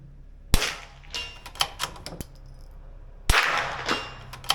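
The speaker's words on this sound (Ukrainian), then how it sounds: "Гучний постріл." Two sharp gunshots from a Retay Sporter .22 LR rifle, several seconds apart, each a crisp crack with a brief ringing tail, amid quiet outdoor ambience.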